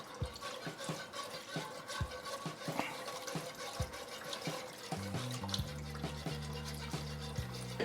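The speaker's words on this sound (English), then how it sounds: "I'm gonna get my whisk out and we're gonna slowly add the stock to the onions" Stock is slowly whisked into cooked onions and flour in a pot, producing quick, repeated clicking taps and liquid sloshing, then a steadier pouring, wet sound, close by with no voices.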